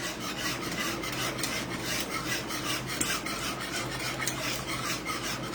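A yogurt mixture being stirred into milk for homemade ice cream makes a steady, close-up scraping and rubbing of a spoon around a pot, continuous and rhythmic with no talking.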